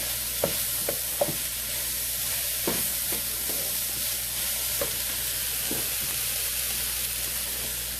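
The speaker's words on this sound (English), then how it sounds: "Not cumin powder, but actual cumin, about 1 tablespoon. So we have all that in there. We're going to let it saute a bit" Whole cumin seeds, about a tablespoon, sauté in a pan off grid with a steady, bright sizzle and hiss. Several light clicks of stirring against the pan break through the sizzle now and then.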